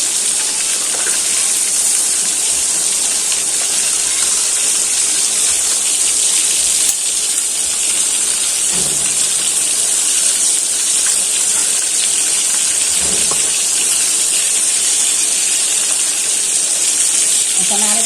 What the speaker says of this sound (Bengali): তো বোনেরা, ভালো করে মাছটা ভাজা হয়ে যাক।